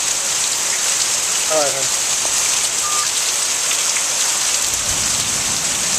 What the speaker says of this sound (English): The rain is pouring over the roof.